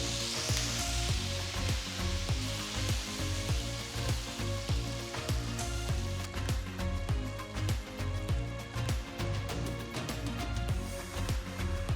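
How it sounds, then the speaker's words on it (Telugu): Tamarind juice hisses and sizzles steadily as it is poured into a hot pan for temple-style tamarind rice, a dense crackling texture with tiny pops that stays fairly loud and even throughout, with no talking. "ఇప్పుడు చింతపండు రసాన్ని ప్యాన్లో వేస్తున్నాను."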